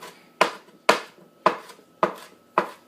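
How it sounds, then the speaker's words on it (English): Knife chopping onion on a cutting board in a home kitchen, five sharp, evenly spaced chops about half a second apart, close and clear with no talking. "then you set it aside and cut up the onion"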